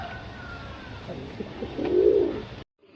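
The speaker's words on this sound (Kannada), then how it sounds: "ಇದು ಧೂಮಾ ಲೈನು, ತುಂಬ ಹಳೆ ಲೈನ್ ಅಕ್ಕಿ" Old-line pigeons cooing nearby, a soft low coo swelling in the middle, over steady background hum with no talk.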